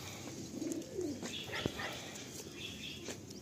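A Madrasi flying pigeon gives a short, low, throaty coo in two quick phrases early on, close by, followed by quieter rustling and a sharp click over a steady background hiss with no talking.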